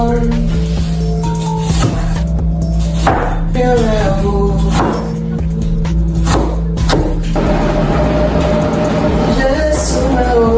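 Onion being chopped on a cutting board in a home kitchen, repeated knife thuds under steady background noise and music, with people talking over it.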